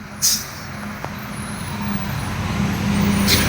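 Vehicles pulling away on a forest road near a wild elephant, a steady low engine rumble that slowly builds in loudness, with a brief hiss at the start and another near the end.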